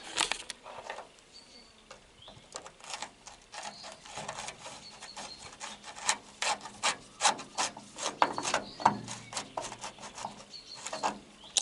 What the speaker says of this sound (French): je vais tout de suite lui mettre un coup de scie ici